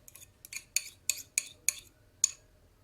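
A utensil clinks sharply against a bowl in several quick, separate strikes while two eggs are stirred together with coarse salt, each tap crisp and close, with quiet gaps between.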